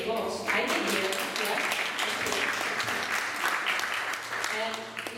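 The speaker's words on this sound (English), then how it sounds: "You could hear the applause." A dense, continuous burst of audience clapping fills the space at a steady loudness, with voices talking over and through it.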